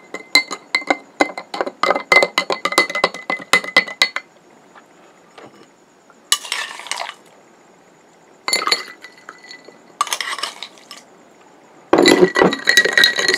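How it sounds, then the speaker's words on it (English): A spoon stirs Thai iced tea in a glass, sending bursts of bright clinking and rattling against the sides with pauses between rounds, close and loud with no talking. "And now we're going to stir it."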